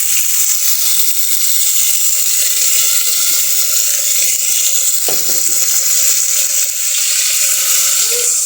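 Fish fries in spattering oil under a lid, producing a loud, continuous sizzling hiss with a brief clatter midway and no voices.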